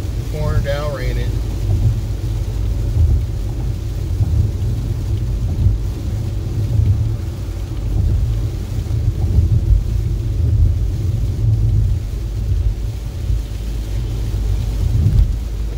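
Heavy rain pours down on a gloomy day in Connecticut, a steady, loud wash of noise with a deep rumbling underlayer that runs unbroken for the whole stretch.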